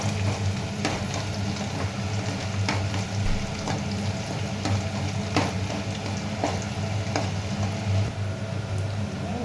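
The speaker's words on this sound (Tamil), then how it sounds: "பூண்டு போட்டுக்கிறோம். போட்டு கொஞ்சம் லைட்டாக வதக்கிறோம்." Garlic and curry leaves sauté lightly in oil for chicken pickle: a constant crackling fry with faint periodic ticks and clinks running evenly throughout, no voices.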